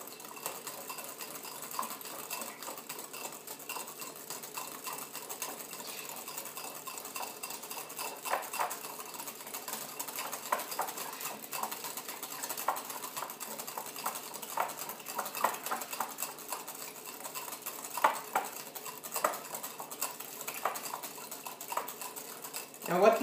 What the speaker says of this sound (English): You just want it well beaten, the milk and your egg yolks.